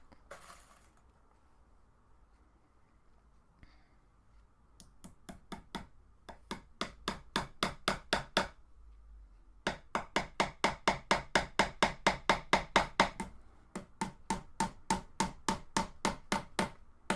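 Hammer driving studs into a project, bursts of quick, evenly spaced sharp taps in rapid runs separated by short pauses, close and clear with no talking.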